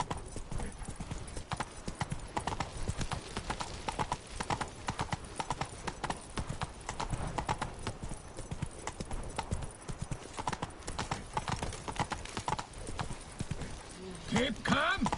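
Roach the horse galloping in The Witcher 3, hooves pounding in a fast, continuous clip-clop rhythm at close range, with voices talking over the hoofbeats.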